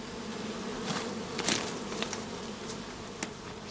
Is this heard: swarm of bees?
yes